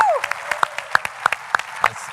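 A small audience at the AEC 2025 Ergo Cup awards claps sparsely, with distinct, separate claps spaced about every third of a second against a quiet room, and a short voice-like sound near the start.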